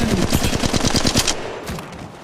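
Rapid automatic gunfire in the game Apex Legends Mobile: a loud, close burst of about a dozen evenly spaced shots lasting just over a second, then a short echoing tail and a few fainter follow-up cracks.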